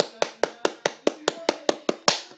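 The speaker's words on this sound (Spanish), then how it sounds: "Clap for you again. Aplauso para ustedes otra vez." Children in a first-grade English class clap in unison, about ten sharp, evenly spaced claps in a quick steady rhythm, close and distinct against a quiet room.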